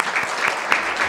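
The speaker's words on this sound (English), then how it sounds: "So let's welcome Barbara Corey with a round of applause." Brief applause from an audience welcoming a speaker to a forensics talk, dense clapping with a few louder claps standing out over a short moment.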